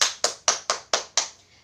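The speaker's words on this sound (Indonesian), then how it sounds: "tepuk tangan untuk kita semua" Six sharp, evenly spaced claps from a class of children clapping together in unison during a lesson, crisp and close, the last one fading out with no talk over them.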